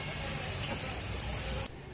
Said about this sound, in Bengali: তেলের মধ্যে দিয়ে দিচ্ছি কোচানো পেঁয়াজ।